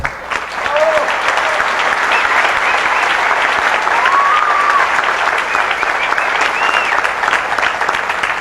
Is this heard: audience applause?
yes